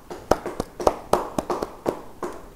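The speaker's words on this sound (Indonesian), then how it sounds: "Yang percaya beri tepuk tangan bagi dia" A few scattered, sharp hand claps from a church congregation during a sermon, loose and uneven rather than a full round of applause, with a voice faintly underneath.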